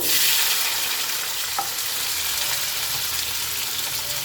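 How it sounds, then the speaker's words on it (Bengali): Potatoes frying in hot oil in a wok (kadai) for aloo posto, giving a steady, dense sizzle that holds at an even level throughout with no voices. "আমি আলুগুনাকে দিয়ে দেবো কড়াইয়ের মধ্যে আলুগুনাকে লাল লাল করে ভেজে নেবো"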